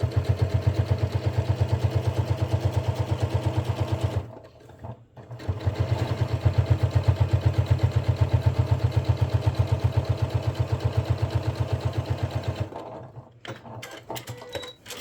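A sewing machine runs a top stitch along a fabric notebook cover, its rapid steady needle chatter loud and close, pausing briefly in the middle before resuming, then stopping near the end.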